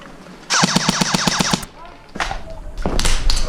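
A homemade airsoft gun built from scrap rattles off a rapid burst of about a dozen evenly spaced shots during an airsoft field game, followed by scattered louder noise and rustling.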